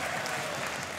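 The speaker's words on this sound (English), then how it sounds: "You hear the crowd go wild." Crowd at the Clash Royale League World Finals esports event, erupting in a brief, dense burst of applause and cheering that fills the space evenly.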